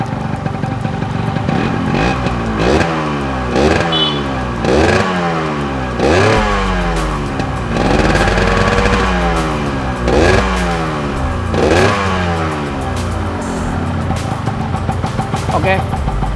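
A Yamaha RX King two-stroke motorcycle engine, worked on while setting its oil pump, revs loudly and close in repeated throttle blips that rise and fall in a steady rhythm over a rattling idle, with no talk over it.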